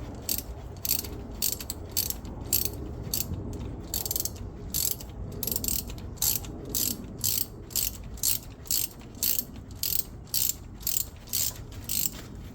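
A tool winds the rear brake caliper piston of a Maserati Levante clockwise, a fast rhythmic ratcheting with repeated clicks in regular bursts, close and fairly quiet, no talk.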